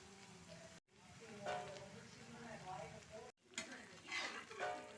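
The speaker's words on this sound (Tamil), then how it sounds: "நம்ம அடுப்பை நல்லா கம்மி பண்ணிட்டு நம்ம இது பொரிச்சு எடுத்துடலாம்." Bread pieces deep-fry in hot oil over a low flame for bread halwa, a soft bubbling sizzle that swells and fades while a person talks nearby.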